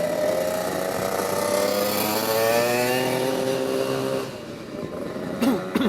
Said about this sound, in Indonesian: kita orang protes knalpot yang berisik kayak gitu loh, karena mengganggu telinga